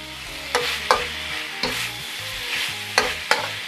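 Pork belly being stir-fried in a pan for Thai jungle curry: a steady sizzle broken by several sharp spatula strikes and scrapes against the pan, close and fairly loud, with no talking.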